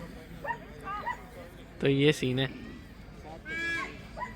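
Dogs at a dog show competition give a few short yips and barks, including a sharper burst in the middle, mixed in with someone talking over the crowd.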